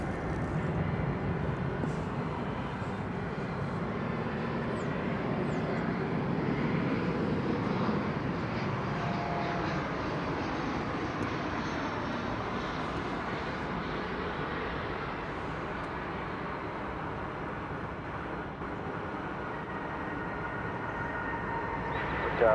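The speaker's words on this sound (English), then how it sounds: "That was American Flight 1263 on its way to LaGuardia Airport" An American Airlines passenger jet at Dallas/Fort Worth Airport, bound for LaGuardia in New York, gives a steady, loud broadband engine roar that holds evenly throughout with no gaps and no talk over it.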